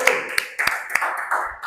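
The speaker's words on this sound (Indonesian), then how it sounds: "Boleh kasih tepuk tangan untuk Bang Bilal." Audience applause at a local council gathering, a short burst of scattered claps rising over a low murmur of voices.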